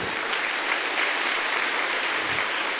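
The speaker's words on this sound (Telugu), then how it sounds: "మన బ్రదర్ గారికి చప్పట్లు కొడదాం ఒకసారి." A crowd claps for Brother Joseph Thambi at a church feast, a dense, steady burst of applause lasting a few seconds with no voices over it.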